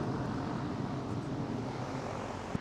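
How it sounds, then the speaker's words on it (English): An electric fan runs beside a pellet grill where corned beef is cooking, giving a steady broadband whoosh and low rumble that stays level for the whole stretch, with no talking. "As you can see, I got a fan going to keep it from getting smoky in here."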